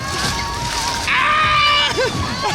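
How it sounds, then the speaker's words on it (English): River water sloshing and splashing loudly through rapids on the lower Salt River in Arizona during a float trip, with a surge of rushing spray midway and voices calling out under the churn. "these are some of the nastiest rapids that you'll encounter on the lower Salt River"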